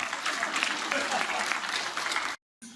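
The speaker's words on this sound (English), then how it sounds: "A big round of applause for the husband of the" Audience at an awards ceremony, the Nirbhaya Nari Shakti Awards 2017, applauding in a sustained dense clatter of many hands that cuts off abruptly, then briefly resumes.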